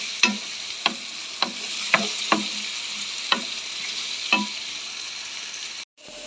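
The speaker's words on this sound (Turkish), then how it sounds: "Patateslerimizi kızartalım." Continuous oily sizzle of potatoes frying in oil, with a sharp utensil clink every half second or so as they are stirred, ending in a brief silence.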